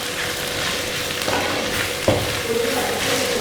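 Chicken thoran being stirred in a pan after coconut oil is added, a steady sizzle and fry with a soft scrape of the spoon and one sharper clink partway through, no talk.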